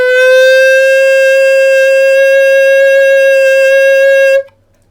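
A Xaphoon pocket sax sounds a single note played with firmer lip pressure: a clear, steady, reedy tone, loud and close, held for over four seconds before stopping abruptly.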